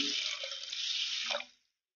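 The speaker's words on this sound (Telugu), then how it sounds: "ఇప్పుడు మనం వాటర్ వేసుకున్నాం కదండి" Water runs from a tap into a bowl to soak lentils, a steady close splashing stream that stops abruptly near the end, leaving silence.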